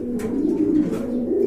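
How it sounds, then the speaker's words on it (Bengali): Big Indian Mumbai pigeons coo in a low, steady, close rumble that runs unbroken through the whole moment, with no talking. "তো জলিল ভাই বলছিল দুইটা সেম কোয়ালিটির কবুতর রয়েছে দেখতে পাচ্ছেন"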